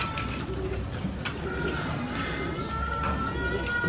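Pigeons of various breeds coo softly in a loft, low repeated calls layered over a steady background hum, fairly close and continuous.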